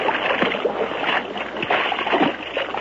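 Splashing and sloshing water as someone wades out into the middle of a creek, staged as a 1930s radio drama effect set in Alaska; steady, fairly loud swishes and splashes with periodic surges.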